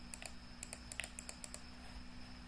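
Computer mouse buttons click in a quick irregular series of about eight to ten light taps, close and quiet, with a faint steady hum underneath.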